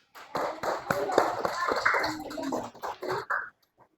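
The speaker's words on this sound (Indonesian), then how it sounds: "Oke, tepuk tangan semua, nak." Schoolchildren in a classroom clap together for a few seconds, an uneven burst of hand claps mixed with children's voices, before fading into scattered taps and quiet.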